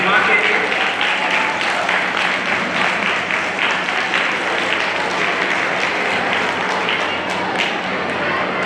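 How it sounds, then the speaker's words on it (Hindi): Loud, steady applause from a Sunday School Day gathering in a church diocese, thick and sustained the whole way through, with a voice speaking over the clapping. "एक बार हम लोग जोरदार ताली बजाते हैं"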